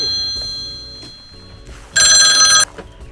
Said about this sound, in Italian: Un telefono, sta suonando!